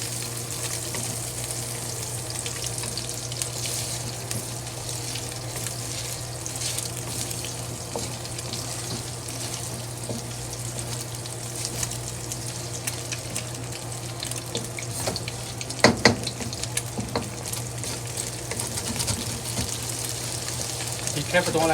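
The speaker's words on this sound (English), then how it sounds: "And now we just stir it, fry the egg." Egg frying in a pot for egg fried rice, with steady sizzling and a running water-like hiss, occasional scraping and stirring clicks against the pot, and a constant low hum underneath.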